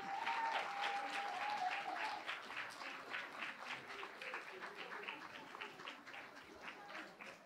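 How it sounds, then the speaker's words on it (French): Audience applause at a Christmas jumper evening, a dense, steady patter of many hands clapping that fades slightly toward the end, with a brief tonal whistle-like note early on. "Est-ce qu'on peut encore les applaudir très fort?"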